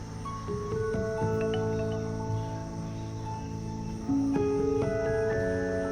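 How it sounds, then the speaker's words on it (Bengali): Crickets chirp in an unbroken, layered drone of steady tones at a nature retreat resort in Sylhet, moderately loud and close, with new voices joining partway through and no talking. "আর সাথে সঙ্গ দেবে নিরবিচ্ছিন্ন ঝিঝি পোকার ডাক।"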